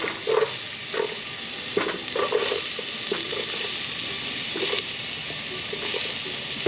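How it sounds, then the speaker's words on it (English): Onions sauté for jambalaya in a pan at a camp kitchen, a loud, continuous hissing sizzle with regular scraping strokes of a spatula stirring through it. "We're going to saute these onions."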